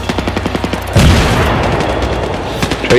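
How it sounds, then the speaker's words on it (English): Grenade blast in Battlefield 3 with the Reality mod, a sudden loud low boom with a rumbling tail about a second in, preceded and followed by rapid gunfire in a close-quarters firefight. "Grenade out."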